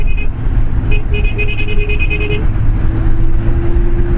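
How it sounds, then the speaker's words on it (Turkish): Heavy road traffic in Istanbul near the Göztepe bridge, heard from a motorcycle, with a steady engine and road rumble and a series of short horn toots in the first half, loud and close. "Bu ne trafiktir lan?"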